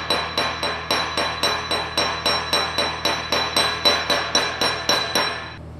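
Hammer peening a hot weld deposit on tool steel, a close, even series of about sixteen bright metallic strikes in a steady rhythm, each ringing briefly before the next.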